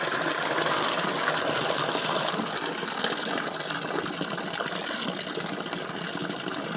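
A 12-volt bilge pump on a gold dredge gushes water in a steady, loud rushing stream that holds constant throughout with no talking.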